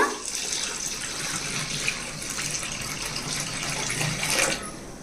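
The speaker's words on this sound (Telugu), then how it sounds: "ఇవన్నీ మూడు సార్లు శుభ్రంగా కడగాలండి ఇదిగోండి శుభ్రంగా కడిగేసానండి" Running water splashing and sloshing as soaked idli rava and urad dal are rinsed in a vessel, a steady tap-like flow throughout with faint handling noises, no speech.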